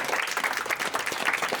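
Applause from an audience clapping continuously, dense and steady throughout, with a faint crowd murmur mixed in.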